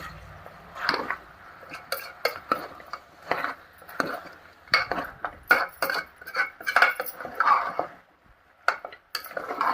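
A spoon stirs mutton curry with ginger and turmeric in a metal pot, making a close series of irregular scraping clinks and knocks that pause briefly near the end before resuming.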